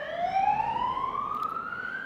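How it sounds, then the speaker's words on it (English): An ambulance siren sweeps past at close range, a loud, steady wailing tone sliding gradually upward in pitch over constant traffic rumble, with no voices. "there is going to be an ambulance coming past"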